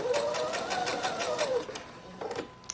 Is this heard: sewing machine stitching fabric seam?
yes